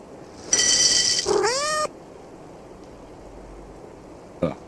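A cat in the video game A.I.L.A gives one loud, drawn-out meow that rises and then falls in pitch, followed by quiet ambience and a faint click near the end.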